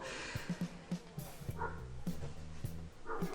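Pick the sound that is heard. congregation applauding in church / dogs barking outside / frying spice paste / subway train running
dogs barking outside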